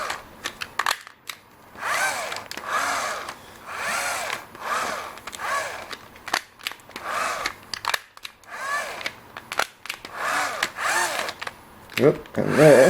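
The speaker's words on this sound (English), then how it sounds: "And I can also change directions with the direction knob chooser on the drill." A 12-volt cordless drill is run in reverse as a makeshift DC generator, giving repeated close bursts of rough motor whirring that start and stop in uneven pulses.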